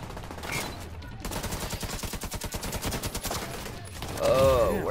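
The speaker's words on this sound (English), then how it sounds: "Where am I getting shot from?" Video game gunfire from Tom Clancy's The Division 2 crackles as a rapid automatic burst of closely spaced shots, fairly loud, amid other game sounds and effects.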